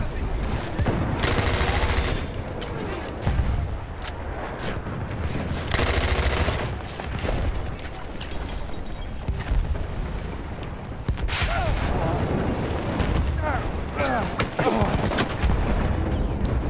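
Enemy machine gun fire in the World War I shooter Battlefield 1, a loud, nearly continuous rattle of automatic shots mixed with booms and battle din, with a voice speaking over the chaos.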